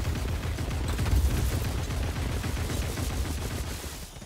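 Rapid, dense gunfire in the game Hawked, a sustained rattle of shots up close that tapers slightly toward the end.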